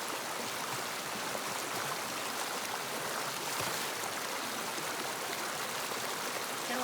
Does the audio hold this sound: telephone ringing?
no